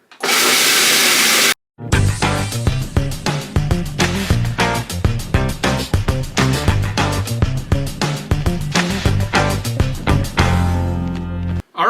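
A blender grinds cacao nibs down into cacao butter with a loud, dense whirring roar for about a second and a half, then cuts off abruptly, giving way to rhythmic music.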